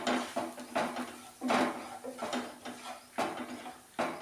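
Potato and chili powder sautéed in a pan, with a series of irregular metallic scrapes and knocks from a spoon against the pan, close and fairly quiet.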